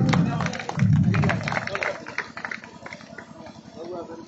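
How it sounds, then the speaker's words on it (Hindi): An audience at a village program in Majhauli, Saran district, Bihar claps to welcome a guest, a scattered patter of applause heard at moderate distance with voices talking over and through it. "इनका ताली से स्वागत करें"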